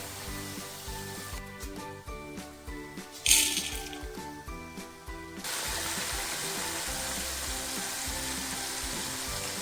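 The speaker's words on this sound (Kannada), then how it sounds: "ಸೊ ಈ ಥರ ಎಲ್ಲ ಅವರೆಕಾಯಿನೂ ಫ್ರೈ ಮಾಡಿ ಸೈಡ್ಗೆ ಹಾಕೊಬೇಕು" Field beans (avarekalu) fry in oil for an avarebele mixture, a busy crackling sizzle with rhythmic ticking and clatter, swelling into a steady, louder hiss in the second half.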